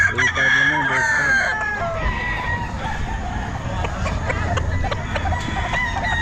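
A rooster crows loudly and close at a busy pet market selling chickens, with more clucking and crowing from other fowl around it while vendors and buyers talk over the steady crowd noise.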